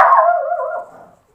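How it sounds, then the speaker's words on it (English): A single short dog bark that rises and then trails off into a brief whine, close and fairly loud, with no talk. "you're barking"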